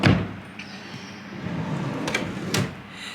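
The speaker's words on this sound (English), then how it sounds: "So let's get to the second drawer." A drawer in a baby's nursery dresser holding newborn clothes slides open, with a few soft wooden clunks and scrapes at close range and no talking.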